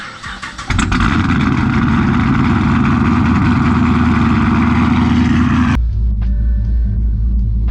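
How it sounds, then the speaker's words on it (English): A Pontiac G8 GT engine cold-starts with a short crank, then catches into a loud, steady, deep rumble that holds for several seconds before the revs settle to a lower, smoother idle. "Let's go ahead and get a cold start."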